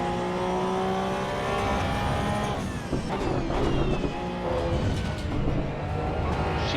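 Porsche GT3 Cup car racing at Oulton Park in the Assetto Corsa EVO sim, its engine droning steadily and loud with rising and falling revs, gear changes and a tyre squeal, no talk.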